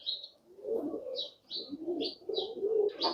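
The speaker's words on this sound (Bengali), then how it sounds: "পছন্দের সব কবুতর," Pigeons on a house rooftop give soft repeated coos in short phrases, close and fairly quiet, with light higher chirps between them.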